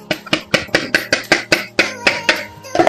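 Chocolate sponge cake batter is beaten by hand in a bowl, giving about a dozen steady, rhythmic strokes that knock close and crisp against the bowl, with no talking.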